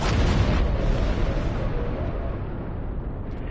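A protomatter detonation rolls out beside a Borg cube in the game Star Trek Online, a loud, sustained booming rumble that holds heavy and steady for the whole stretch, with no voices over it.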